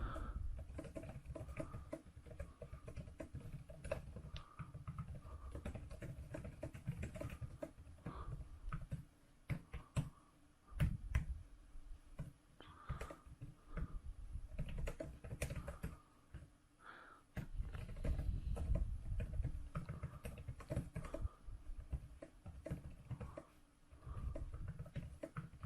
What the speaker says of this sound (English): let's take a look at using Microsoft Word. I'll bring this up right here, and we'll do some typing.